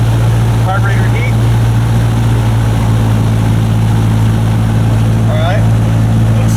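A Cessna 152 engine drones at a steady run-up check during a magneto and carburetor heat check, its constant tonal hum filling the cabin while a pilot speaks briefly over it.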